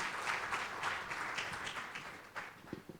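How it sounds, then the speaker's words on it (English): Audience applause fills an awards ceremony hall, a steady wash of many hands clapping at moderate volume with a few sharper individual claps near the end. "can we have a huge round of applause for all the nominees who've been a part of this award process"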